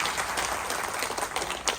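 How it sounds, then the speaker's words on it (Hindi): A crowd of audience members applauds a guest on the stage at a public gathering on casteism, a steady, dense wash of clapping that holds for the whole stretch without a break. "कृपया करके आप लोग जोरदार ताली बजाइए सर के लिए"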